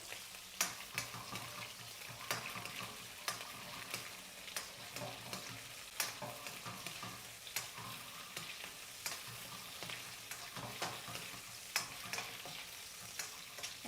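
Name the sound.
shrimp frying in a pan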